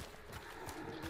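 A horse in the video game Hunt: Showdown gives off faint, rhythmic hoof and body sounds, low in level with no voices over it.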